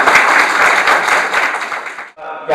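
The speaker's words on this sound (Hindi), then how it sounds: "पुनः ताली से अभिनंदन" Audience applause welcoming a speaker onto a stage at a public event, a dense burst of clapping that holds steady, drops briefly to near silence, then resumes more thinly as a voice begins.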